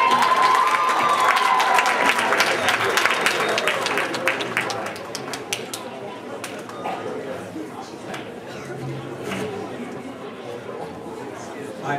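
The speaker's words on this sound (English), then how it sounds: "So if all you guys could give a round of applause for Crazy Dave Penn." An audience cheers, whoops and claps loudly to welcome a magic act on stage, the ovation peaking at the start and gradually thinning into scattered applause and chatter.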